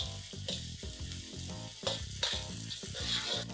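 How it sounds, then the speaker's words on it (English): A heaped tablespoon of finely chopped garlic and julienned ginger sauté in hot oil in a pan, giving a steady sizzle with a tonal, ringing layer running through it. "a heaped tablespoon of finely chopped garlic, 1 inch of ginger that I have cut into juliennes. I'm going to saute this for a few seconds"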